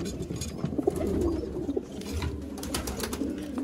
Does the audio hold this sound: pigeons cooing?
yes